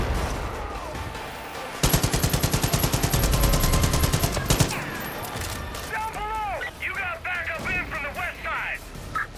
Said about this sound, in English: Oh shit, mortar.